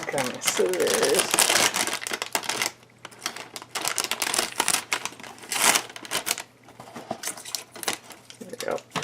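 A plastic muesli bag is cut open with scissors, giving close, loud bursts of crinkling and rustling in uneven spurts, with a short pause midway.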